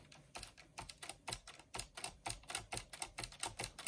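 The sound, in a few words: Hermes Baby typewriter backspace key operating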